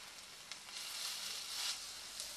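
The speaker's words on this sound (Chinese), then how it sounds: "烧热一个 pan， 将啲肉咁样摆落去，" Pieces of pork belly laid into a hot pan to sear, giving a steady, bright sizzle that swells slightly as more meat goes in, close and moderately loud with no voices.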